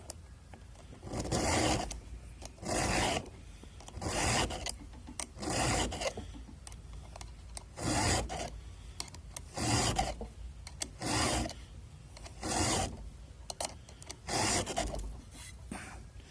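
Round file sharpening a chisel-tooth chainsaw chain, close rasping strokes in a regular rhythm of about one every second, each stroke a short scraping burst with quiet pauses between, no talk.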